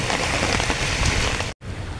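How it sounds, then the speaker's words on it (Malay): Steady rain falling outdoors during a fishing trip, a dense, even patter of drops close by and continuous, broken by one brief dropout near the end; no voices. "Hujan berterusan"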